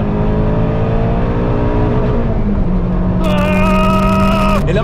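Peugeot 206 RC engine revving up toward its rev limiter near 7400 rpm, a loud close engine note climbing steadily in pitch, rising sharply to a high strained whine before easing.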